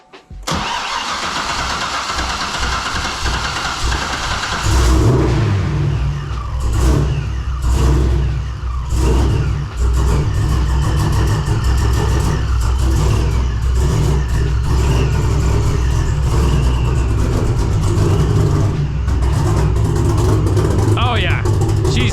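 A supercharged C6 Corvette fitted with an ECS supercharger kit, flooding, cranks, catches and revs roughly in loud, uneven surges close by, with voices talking over it.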